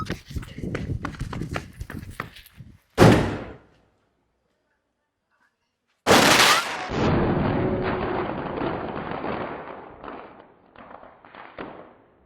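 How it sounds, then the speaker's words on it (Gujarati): A Lion King firecracker bought in Dhoraji goes off with a sharp loud burst, followed after a silent pause by a second loud blast and a long fizzing, crackling tail that slowly fades, with scattered thumps before. "આ છે લાયન કિંગ લાસ્ટ ફટાકડો છે, તો અત્યારે આપણે આને ફોડીશું"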